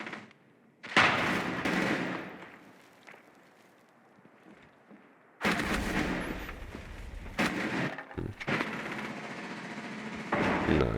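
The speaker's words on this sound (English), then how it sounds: "Is he just hip firing everyone?" Gunfire from hip firing in a Fortnite-style shooter video game, coming as loud, dense bursts of rapid shots separated by a quieter stretch, with the noisy volleys dominating the mix.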